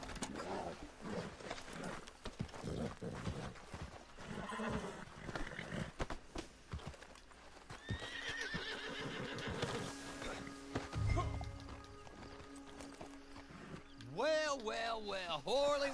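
Horses neighing and whinnying in the Red Dead Redemption 2 game, with hoofbeats, scattered clatter and a low rumble, voices talking in between and a loud rising whinny near the end.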